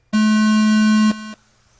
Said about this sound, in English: Sound of the tone.